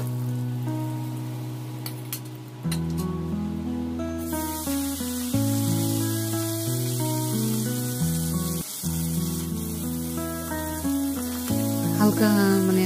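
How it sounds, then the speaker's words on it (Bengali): Tengra fish coated with salt and turmeric fries in oil. A steady hissing sizzle sets in a few seconds into the clip and runs under louder background music. "শুধু নুন আর হলুদ দিয়ে আমি মাছটাকে ফ্রাই করছি"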